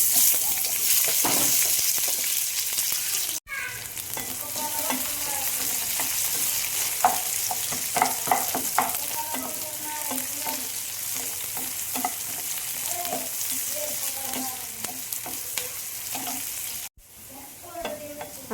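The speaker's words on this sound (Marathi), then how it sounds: "एका पॅनमध्ये आपल्याला तेल टाकायचं आहे आणि त्यात उभा चिरलेला कांदा चांगला परतून घ्यायचा आहे" Sliced onion fries in hot oil in a pan, a steady close sizzle with occasional stirring scrapes and crackles running throughout, broken by two brief cuts.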